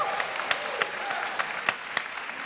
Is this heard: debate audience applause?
yes